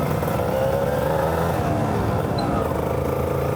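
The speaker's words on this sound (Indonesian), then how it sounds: "motor ini adalah Kawasaki Ninja RR tahun 2004" A 2004 Kawasaki Ninja RR two-stroke 150 cc motorcycle engine runs steadily nearby, giving a buzzy, rattling idle with a slight rise in revs and no speech over it.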